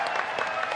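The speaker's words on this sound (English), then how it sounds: "can we have a round of applause" Dense audience applause at a BlizzCon 2018 Classic World of Warcraft Q&A, a steady close wash of many hands clapping over the whole brief moment.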